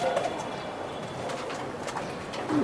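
A racing pigeon coos softly and close by, with low throaty calls at the start and again at the end over a steady background hum.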